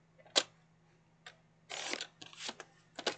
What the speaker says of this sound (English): So I'm just going ahead and I'm cutting out all of my cut aparts